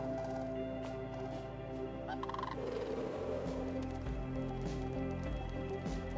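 Fowl-like honking and gobbling bird calls in the game AER: Memories of Old, a few quick calls over a low droning ambience with tonal music, moderately quiet.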